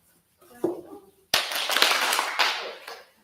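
Hands clap at a rehearsal: a faint soft clap, then a dense burst of many claps together that holds for about a second and a half before fading.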